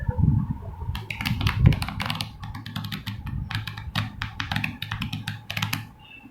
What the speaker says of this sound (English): put it on the top of the deck and then shuffle them